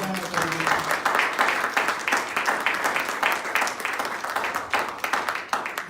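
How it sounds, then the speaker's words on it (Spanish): A church congregation claps together in a sustained burst of applause, dense rhythmic hand claps filling the room for several seconds, loud and near, with some voices mixed in. "Denle ese aplauso a Jesús"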